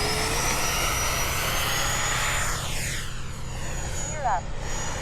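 An upgraded FMS Pilatus PC21 model airplane flies on its maiden flight at Fritz Field, its steady electric whine shifting in pitch as it passes, with people talking nearby.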